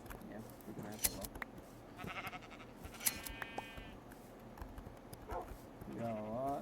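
Sheep bleating in a video game, a few wavering bleats among small game clicks and thumps, with a person talking over them.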